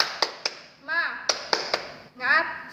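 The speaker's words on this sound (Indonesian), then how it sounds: "marilah kita tepuk semangat dulu ya ibu-ibu semuanya. Tepuk semangat." A group of women does a tepuk semangat clapping chant, with sharp, crisp claps in a quick rhythmic pattern and short chanted voices between the bursts of claps.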